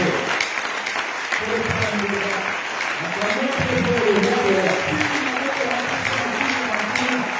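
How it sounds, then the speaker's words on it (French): A congregation claps during a church sermon, producing a steady wash of applause heard under a voice, which carries on over it throughout. "Acclamons encore."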